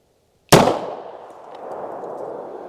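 A single loud gunshot from a Taurus Commander pistol firing Federal Guard Dog .45 ACP rounds cracks sharply, then a long echo rings and fades out, with no voices.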